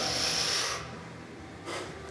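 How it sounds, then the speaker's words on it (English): A demonstration of shallow breathing up into the chest: a long, loud, airy inhale close to the mic, then a quieter pause and a second short breath. "Breathing up,"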